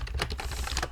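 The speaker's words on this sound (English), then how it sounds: "A bit of typing going on in the background." Fast, light typing on a computer keyboard, a quick run of clicking keystrokes heard on its own, close and moderately quiet.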